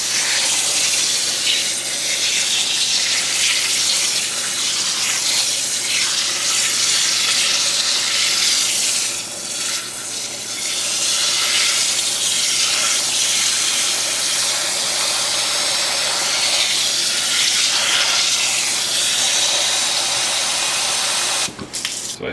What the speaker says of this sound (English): So, now we are at the point when we want to fill our crock up with water.